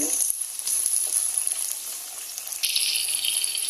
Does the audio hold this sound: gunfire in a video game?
no